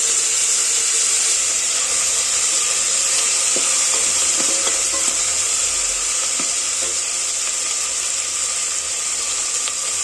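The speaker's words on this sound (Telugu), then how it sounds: "అట్లా వేగిన తర్వాత అల్లం తెల్లగడ్డల పేస్ట్" Ginger garlic paste sizzling loudly in hot oil for biryani, a dense continuous hiss with faint scattered ticks of stirring, heard alone and close.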